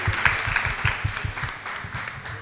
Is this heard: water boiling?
no